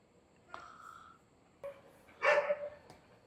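A dog barks a few times in the background of a quiet indoor room, faint and distant, with one louder bark near the end.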